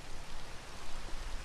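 Steady rain falls in the FNAF video game as an even, hissing wash of drops with a low rumble underneath, continuous and moderately quiet with no voices.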